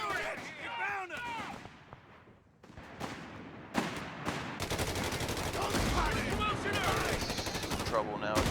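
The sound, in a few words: gunfire in Company of Heroes 3 video game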